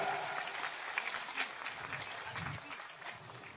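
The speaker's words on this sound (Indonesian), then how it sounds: "Tepuk tangan untuk Sayyid Zulfikar" Applause from a crowd at an Islamic religious gathering and sermon, a dense wash of clapping that stays steady across the whole stretch, with some voices faintly mixed in underneath.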